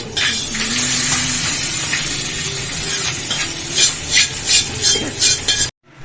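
Hot oil tempering cumin, mustard seeds, dried chillies and curry leaves, a close steady sizzle with a few crackling pops and spoon scrapes, cutting off abruptly at the end.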